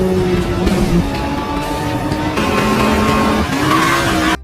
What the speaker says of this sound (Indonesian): Wah, ada mobil balap teman-teman.